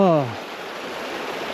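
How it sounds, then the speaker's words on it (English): A stream flows beside the Appalachian Trail as a steady, moderately loud broadband rush of water, preceded by a brief voice at the start. "nice stream."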